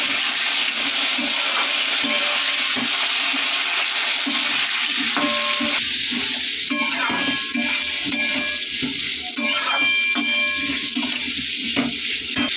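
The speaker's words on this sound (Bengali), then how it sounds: "আলু পটল সবজি ভাজা হয়ে গেছে" Potato and pointed gourd frying with spices, a loud continuous sizzle throughout with intermittent stirring and clinks of a utensil against the pan.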